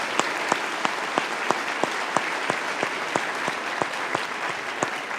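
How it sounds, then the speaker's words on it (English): Audience at a Conservative Party of Canada debate applauding event volunteers, a sustained wash of clapping with one nearby pair of hands striking sharp, evenly spaced claps above the crowd. "let's have a big round of applause for those people."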